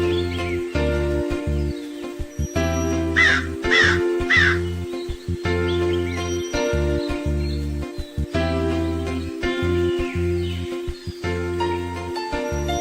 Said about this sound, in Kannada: ಈ ಕಾಗೆಗಳಿಗೆ ಅಜ್ಜಿ ಬೈದಿ ನೆನ್ಪೇ ಇರಲ್ವಾ?